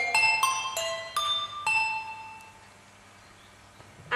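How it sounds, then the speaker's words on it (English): Handbells struck with mallets like a glockenspiel, about six bright ringing notes at an uneven pace that each decay into a shimmering tail, close and clear, followed by a quiet fade with no talk. "You can also use them with these mallets as like a glockenspiel."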